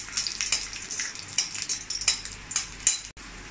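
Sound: cashews and raisins frying in ghee

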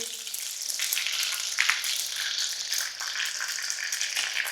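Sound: green chili frying in hot oil

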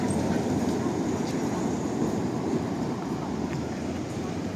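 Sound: tram passing on a street in Lviv at night

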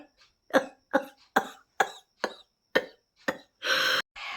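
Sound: coughing after laughing

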